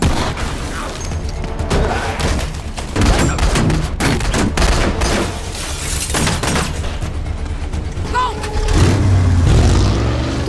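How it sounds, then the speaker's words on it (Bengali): Bursts of gunfire in a movie shootout, a dense run of sharp cracks and booms over a busy, loud action soundtrack, with a heavier low rumble near the end. "গোলাগুলি।"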